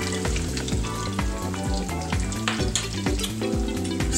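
Tilapia coated in pumpkin seeds fries in a pan with a loud, steady sizzle and crackle, under background music.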